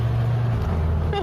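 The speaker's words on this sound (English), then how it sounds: "Did you hear that kick down?" A Ford Cortina with an automatic transmission kicks down while accelerating from about 28 mph, its low engine note dropping and shifting midway through a brief burst of road and engine noise, with a voice faintly heard near the end.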